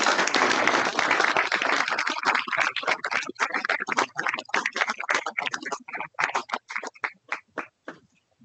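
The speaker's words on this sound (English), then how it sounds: "So really a big applause to them as well." Audience at a conference final event applauding the organizers, a dense round of clapping that gradually thins into scattered individual claps before stopping.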